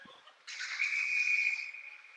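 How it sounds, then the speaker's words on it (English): A referee blows a long, shrill whistle at an ice hockey game, sustained for well over a second in an arena. "We get a whistle."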